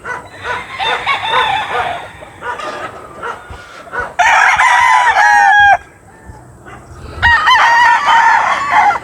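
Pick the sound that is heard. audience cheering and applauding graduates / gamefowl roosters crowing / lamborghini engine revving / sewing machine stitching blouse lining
gamefowl roosters crowing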